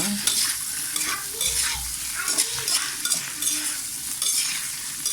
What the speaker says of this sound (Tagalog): Ang dami ng hipon. Haluin lang yan